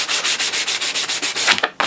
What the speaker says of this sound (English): here we are with our next layer of sanding.